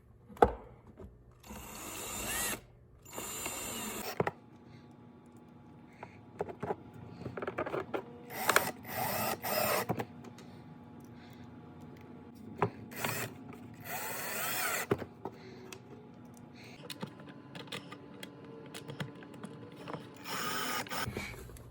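A driver runs four screws in to secure a Boost Auto charging pad, heard as short, quiet whirring bursts with clicks and handling noises between them, close by.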